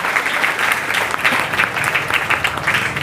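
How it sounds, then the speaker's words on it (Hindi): Crowd at a Mental Health Day awareness event for students and public in Aurangabad giving continuous, dense applause, steady and fairly close throughout. "आप तमाम के लिए ज़ोरदार तालियां होना चाहिए"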